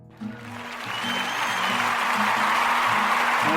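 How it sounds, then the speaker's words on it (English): A large crowd at Woodstock builds from quiet into sustained cheering and applause, the roar swelling over the first second and a half and then holding loud and dense to the end. "yeah, we got a crowd here"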